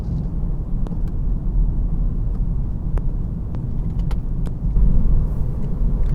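Audi A3 driven hard at full throttle, a steady loud engine and road rumble running throughout with a slight swell near the end, no voices.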